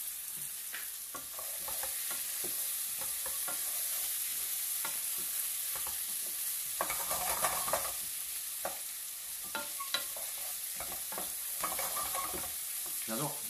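Salmon cooking in a pan over slightly raised heat, with a steady, close sizzle of frying running throughout and occasional sharper crackles and spits rising above it.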